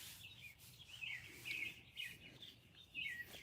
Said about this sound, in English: if the birds are more relaxing